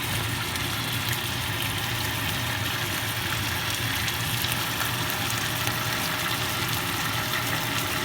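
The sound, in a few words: sausage frying in oil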